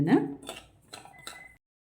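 Foxtail millet dry roasting in a pan on low flame, a few scraping clinks of a utensil stirring the grains against the metal, close and brief, then silence.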